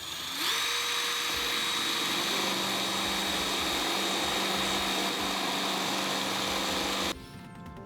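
A power drill bores holes to mount a cheap eBay wing on a car, one loud, steady whine held for about seven seconds before cutting off abruptly.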